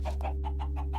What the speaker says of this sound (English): You can hear the chickens from the outside.